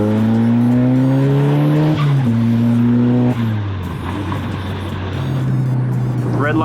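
A car engine revs hard toward redline through an aftermarket exhaust, loud and close, pitch climbing and dropping in stepped pulls before settling back to a steady rumble.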